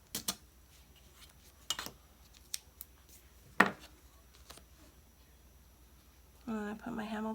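Scissors snip through paper in a handful of separate, sharp clicks spaced a second or so apart in a quiet room while planner pages are trimmed, with a brief voice at the end.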